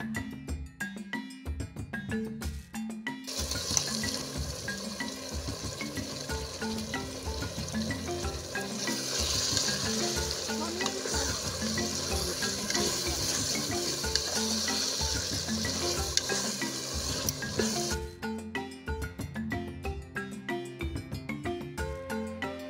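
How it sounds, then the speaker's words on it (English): Wele, beef and dried fish stirred into a pot of Ghanaian okro stew, giving a steady sizzle and bubbling with clinks of a spoon against the pot, close and moderately quiet with no voices. "Add the wele and beef, add the dried fish and stir together."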